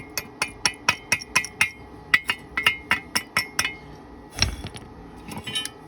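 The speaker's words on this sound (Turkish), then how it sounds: "Oo, cüruf kendi kendine kalkıyor. Dokunur dokunmaz." Welding slag is knocked off a fresh stick-weld bead made at about 110 amps: a rapid series of bright, sharp metallic taps and clinks at a steady rhythm, followed by a few scraping knocks.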